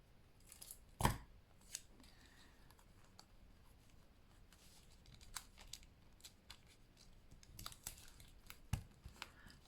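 Tape being cut and torn while building a papercraft Christmas book nook, one sharp snip followed by soft scattered crinkles and ticks, close and quiet.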